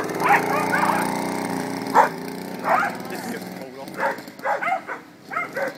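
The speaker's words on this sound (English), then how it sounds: "I think he's worried about your dogs." Dogs give a few sharp yips and barks spaced across the scene, near and fairly loud, mixed with people talking.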